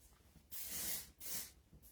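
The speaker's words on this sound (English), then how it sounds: "this is a texturizing spray, to kind of get it all over" A texturizing hair spray is sprayed onto hair in three quick hissing bursts from an aerosol can, close but soft, with short pauses between them.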